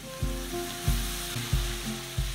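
Garlic paste fries with onion and tomato in a pan for Bengali chicken bhorta, a close, steady sizzle broken by four evenly spaced stirring scrapes, with no one talking.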